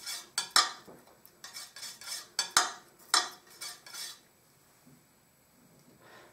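Oil paints being mixed together on a plate, giving a series of light scraping and tapping strokes close by in an uneven rhythm, trailing off into quiet near the end.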